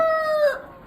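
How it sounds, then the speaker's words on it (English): A rooster crows loudly and close by, one drawn-out call that holds steady and then trails off toward the end. "We've got too many roosters."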